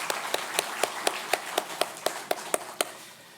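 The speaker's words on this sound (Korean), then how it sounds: "우리 찬양대로서 다시 한번 박수로 한번 격려하겠습니다." In a church during Sunday morning worship, a congregation claps in encouragement for the choir, a run of about eleven sharp, evenly spaced claps in a steady beat, close and moderately loud, that fades at the end.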